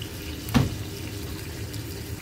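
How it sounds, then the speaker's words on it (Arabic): Water pours into a pot of browning meat for a kabsa of lamb or beef with American rice, a steady low wash of liquid with one brief louder splash near the start. "الحين نضيف الماء"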